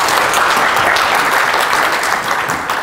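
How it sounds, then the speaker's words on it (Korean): Close, loud applause from a crowd at a Python programming conference session, bright dense clapping that carries on evenly before a speaker begins, without any voices. "큰 박수 부탁드립니다"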